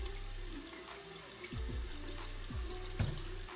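Hot water runs steadily from a sink tap while a makeup sponge is washed under it, a continuous close splashing stream with a few brief thuds and clunks of handling.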